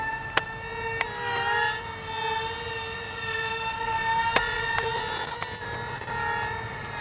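A DEERC FX8823 beginner RC F16 jet in Thunderbirds style flies slowly overhead, giving a steady high electric whine with shifting tones, constant and moderately loud, broken by a few sharp clicks.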